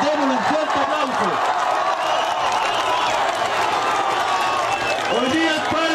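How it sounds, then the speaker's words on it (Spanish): An audience at a homecoming concert for an exiled Chilean band applauds and cheers in a loud, continuous roar of clapping, while a voice calls out and speaks over the crowd. "Démosle un fuerte aplauso."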